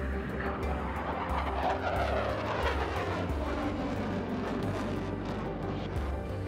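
A Lockheed F-22 Raptor jet fighter flies past with a steady, loud roar of engine noise and broad rushing hiss that holds continuously throughout, with no voices.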